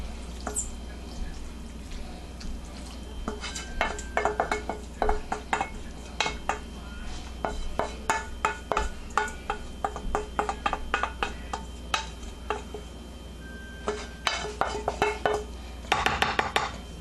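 Hamburger being stirred into a rice casserole for undone stuffed peppers, a spoon clanking and scraping rhythmically around the pan in close, repeated strokes amid soft wet squelches, with occasional talking.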